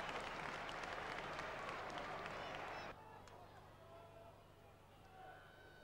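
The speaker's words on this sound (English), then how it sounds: "he's been given a magnificent reception by the crowd inside Portman Road" Football crowd inside Portman Road stadium gives a dense, sustained burst of applause and cheering that cuts off sharply after about three seconds, leaving quieter crowd murmur and faint clapping behind.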